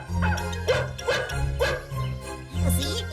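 Cartoon guard dogs bark and yip in a steady run of repeated woofs, fairly loud and close, with a faint jingling tinkle over a low musical drone.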